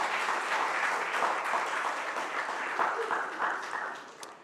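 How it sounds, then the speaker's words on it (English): A university day audience in a hall claps steadily and densely, with sustained applause filling the whole stretch at an even loudness before tapering slightly at the end. "A big round of applause"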